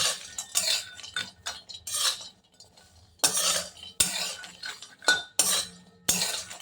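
Whole spices such as cinnamon are stirred in a pan, and a metal spoon scrapes and clinks against the pan in short, uneven bursts separated by brief pauses. The sound is close and moderately quiet.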